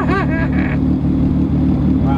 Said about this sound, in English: let me get some revs and see how it goes.